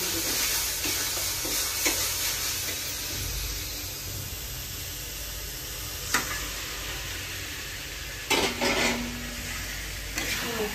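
Marinated chicken, seasoned with turmeric, salt and lemon, hits a hot pan for chicken kosha, sizzling steadily while a utensil scrapes and clinks against the pan now and then.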